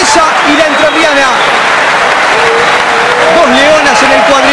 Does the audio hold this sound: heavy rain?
no